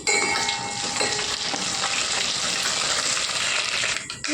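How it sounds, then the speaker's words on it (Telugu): Dried red chillies frying in hot oil in a pan for a Telugu gongura dal, a dense, loud, continuous sizzle with faint crackles close by and no voices. "ఎండుమిరపకాయలు వేగాయండి"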